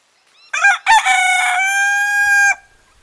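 A rooster among a flock of paddock chickens lets out one loud, close crow, a short rising opening followed by a long sustained call that cuts off abruptly, with quiet before and after.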